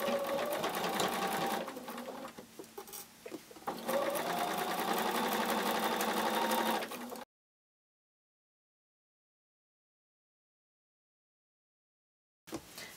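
A sewing machine stitches a seam on a change purse, running forward and back at the start and end. It whirs steadily and close for about seven seconds, dips briefly, then stops into silence before a short restart at the very end.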